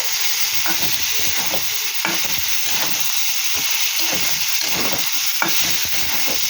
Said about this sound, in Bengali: ভেজে ফেলছি।